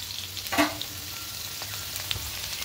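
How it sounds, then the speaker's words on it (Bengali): Vegetables lightly frying in a covered pan give a quiet, steady sizzle with a soft scrape or stir near the start and faint crackles throughout. "ঢাকা দিয়ে দিয়ে সবজিগুলোকে হালকা একটু ভেজে নেব।"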